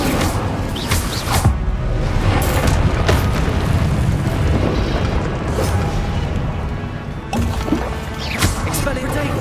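Incendio fire spell cast in Hogwarts Legacy on PS5, a loud whooshing burst of flame with booming roar amid continuous combat noise, with a voice shouting spell names.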